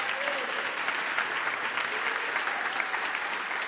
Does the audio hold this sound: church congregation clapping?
yes